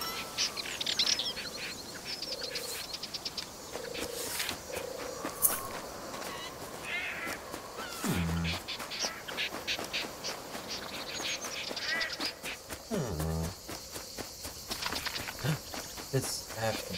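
Birds in the wildlife video game Alba: A Wildlife Adventure chirp and tweet in repeated high calls, and a few lower duck-like quacks come through. Soft footsteps run under the calls, and a voice can be heard faintly at times.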